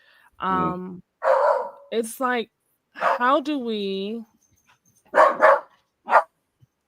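A dog barks a few times in short bursts between snatches of a man's speech, close and clear, in a quiet room.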